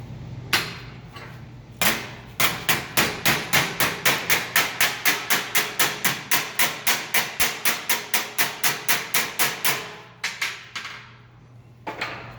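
Steady, rapid hammer blows ringing on a sheet metal flange, about two strikes per second for several seconds, close and loud, with a few scattered knocks before and after.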